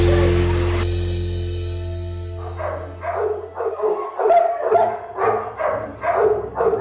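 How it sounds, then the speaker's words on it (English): Several dogs in a training program bark in quick, loud, close bursts with yips and whimpers, following a fading sustained musical tone at the start. "There's a reason these dogs are here."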